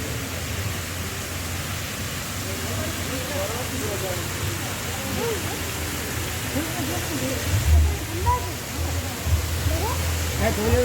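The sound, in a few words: waterfall at Biharinath resort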